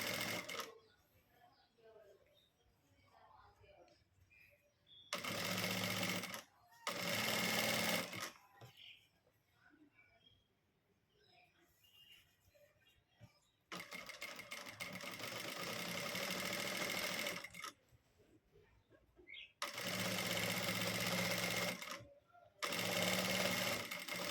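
A sewing machine stitching blouse lining runs in several loud, steady bursts of rapid mechanical whirring, separated by quieter pauses with faint handling noises.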